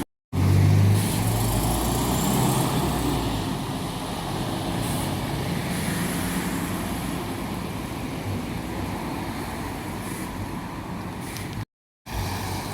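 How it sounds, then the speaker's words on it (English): Steady morning road traffic in Cirencester, a continuous loud rumble of passing engines and tyres with a brief dropout near the end; no talking. "Traffic this morning is not ideal."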